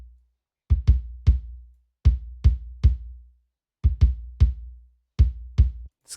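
Deep, punchy kick drum from a cinematic teaser-trailer drum section, struck alone in a loud, steady pattern of clustered hits, two or three at a time, with short booming low-end tails and brief silences between groups.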